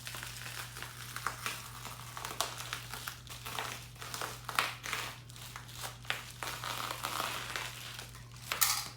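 A garage door insulation panel being cut to trim extra inches, a close irregular crinkling and crunching of foam and facing, steady low hum beneath, no voices.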